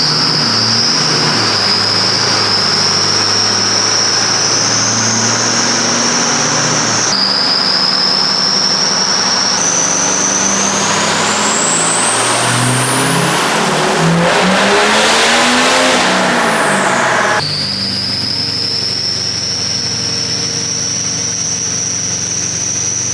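Ford 6.0L Powerstroke diesel engine revving hard on a dyno with blown head gaskets, a loud sustained roar rising in pitch through several pulls with a high whine climbing to a peak before dropping back, close and continuous.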